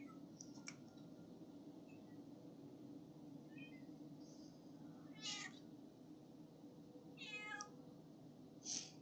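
A cat meows several times, short and sharp, spaced out over a low steady hum of room noise, fairly close but not loud.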